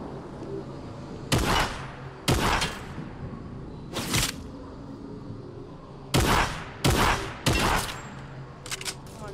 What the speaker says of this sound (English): Oh my god, it's an actual sniper shotgun.